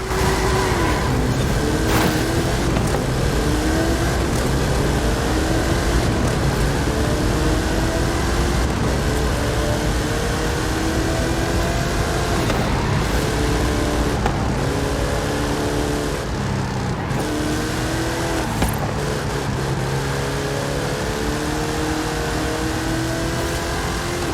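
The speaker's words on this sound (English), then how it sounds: "How about you and I test them in a drag race?" Hot Wheels cars in a drag race in Forza Horizon 5, engines revving loud and near with repeated rising pitch sweeps as gears shift, sustained throughout with no talk.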